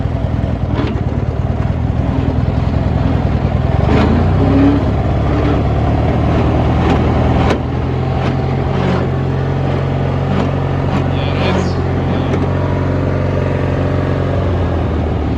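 An Allis Chalmers 616 Special tractor engine running in a high gear, a loud close drone that rises and shifts pitch partway through, with rough, uneven pulses.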